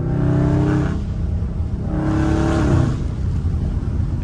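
A catless Dodge Scat Pack roars through two loud, rising revs separated by a short easing off, heard close from inside the car with a harsh, raspy exhaust tone.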